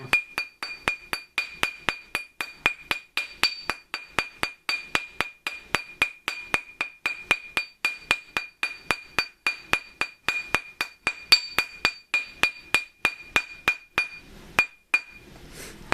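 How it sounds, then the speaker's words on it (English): A metal ring is hammered on a jeweler's mandrel, a long regular series of sharp ringing metallic strikes at a steady brisk rhythm, close and loud, stopping near the end. "I rotate it around as I go so that if there's any spots that are raised up, that it will get hammered into place"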